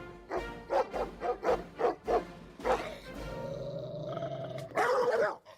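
A dog barks in a rapid run of about eight loud, deep barks, close and rhythmic, followed by growly sounds and a final burst.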